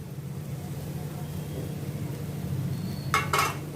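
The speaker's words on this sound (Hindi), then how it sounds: "ये अभी मैं इसमें ये आलू डाल रही हूँ।" Boiled potato pieces, cut small, tumble into a pan in the kitchen with two close clinks near the end over a steady low hum.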